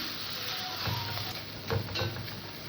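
Masala with vegetables frying in a pan, giving a dense steady sizzle with a few louder spoon scrapes and stirs up close, and no voices.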